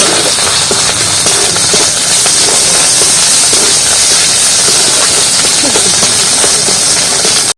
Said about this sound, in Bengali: এবার আদা রসুন বাটা একসাথে দিয়ে দিচ্ছি পেঁয়াজ কষানোর মধ্যে